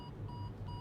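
A 2023 MG Hector's driver-assist warning asking the driver to hold the steering wheel sounds as a quick series of three faint, clean electronic beeps with short gaps between them, over a low cabin rumble.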